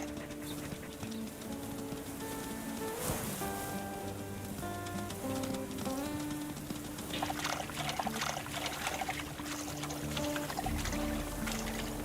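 A wolf wades across a river in the video game WolfQuest, with soft, steady water sloshing and splashing mixed under a background music score throughout.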